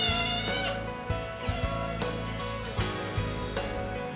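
A kitten at the vet meows repeatedly in protest while a blood sample is taken, a series of loud, clear cries spaced about half a second apart.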